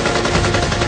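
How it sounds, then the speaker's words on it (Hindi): Rapid bursts of automatic gunfire as terrorists attack Iraqi army bunkers, loud, dense and continuous rattling shots filling the short stretch with no voices. "आतंकी इराकी सैनिकों के बंकर्स पर ताबड़तोड़ गोलियां चला रहे हैं"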